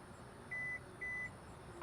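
A 2024 Hyundai Tucson SEL power liftgate gives two short, evenly spaced electronic beeps while its height is being set. Each tone is clear and moderately loud over a quiet background hiss.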